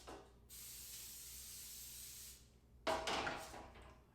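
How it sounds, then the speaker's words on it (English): A steady hiss of canola oil spray onto a foil-lined baking sheet runs for about two seconds, then a brief louder burst of spray follows, close up with no talking. "Now I'm going to spray it with some canola"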